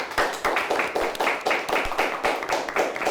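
A small studio audience at a high school quiz show claps for a team in a rhythmic, evenly spaced pattern, close and distinct, with no talking over it.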